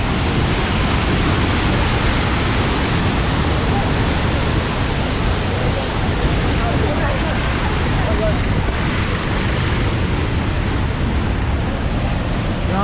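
Water roars continuously from a waterfall pouring out beneath a road bridge in North Sikkim, a dense, loud, unbroken rush with no pauses.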